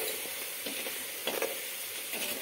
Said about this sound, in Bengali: রসুনটাকে আমি একটু নেড়ে নেব, জাস্ট এখন লো টু মিডিয়াম ফ্লেমে রেখেছি